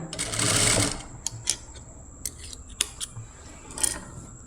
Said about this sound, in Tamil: இதை கொஞ்சம் நம்ம கட் பண்ணி எடுத்துடலாம்